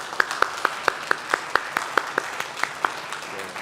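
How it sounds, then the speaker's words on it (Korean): A church congregation gives a welcoming round of applause for a visiting pastor during a Sunday service, with one clear regular clap standing out near the microphone over a softer background of clapping. "한번 박수로 우리 환영하겠습니다."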